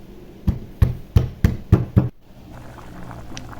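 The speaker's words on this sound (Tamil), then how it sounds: "உள்ளியை ஒரு சின்ன உரலில் போட்டு குத்தி எடுக்க போகிறேன்." Garlic pounded with a pestle in a small mortar while cooking chicken rasam: six sharp, evenly spaced thuds in quick succession, close and fairly loud, then the strikes stop and only a low kitchen background remains.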